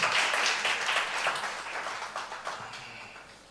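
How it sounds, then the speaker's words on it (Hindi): A church congregation at a Sunday service claps loudly for newcomers, producing dense, sustained applause that fades gradually toward the end. "जो लोग नए आ रहे हैं ताली बजाए जोर से"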